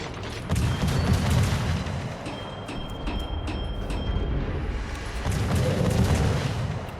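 Naval guns from the cruiser Nurnberg and a battleship firing in a video game: a deep, continuous low rumble with repeated sharp booming reports through the middle, loud and without talk.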